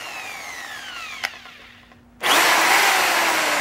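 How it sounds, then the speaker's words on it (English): A Ryobi D620H corded hammer drill winds down with a falling whine and a click, goes nearly quiet, then starts again in hammer mode with a loud, steady buzzing whir. "That's the hammer."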